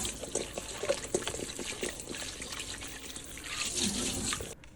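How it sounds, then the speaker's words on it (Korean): Tap water runs and splashes steadily as salted, pickled cucumbers are rinsed in a kitchen sink for Korean water kimchi, a close, continuous stream with small bursts of splashing. "20분이 지나 잘 절여진 오이는 물로 한번 헹궈주시고요"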